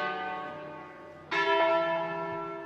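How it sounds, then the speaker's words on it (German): Wedding church bells in Pavia, resonant ringing strokes with long humming decay, one fresh loud strike arriving mid-clip over the fading tones, heard alone. "947 läuten in Pavia die Hochzeitsglocken."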